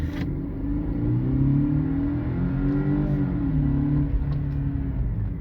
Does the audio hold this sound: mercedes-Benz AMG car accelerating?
yes